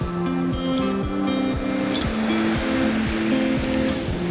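Ocean waves wash in steadily along Whitefield Beach on the Copper Coast, a continuous broadband surf roar at close range with a low tonal rumble running beneath it and no voices.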